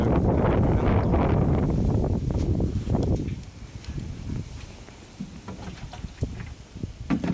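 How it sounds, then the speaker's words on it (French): Heavy wind buffets the microphone in loud roaring gusts, then eases to a lighter rustle with scattered small knocks. "On va se mettre à l'abri pour éviter le vent"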